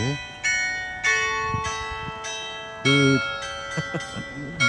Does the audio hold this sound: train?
no